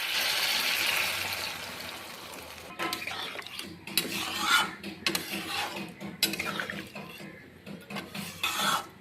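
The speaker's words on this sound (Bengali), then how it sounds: "এবার এর মধ্যে আমি দিয়ে দেবো জল।" Water is poured into a pan of sizzling masala with ridge gourd and potato. A hissing, rushing splash comes first, then softer bubbling and scraping of a utensil against the pan.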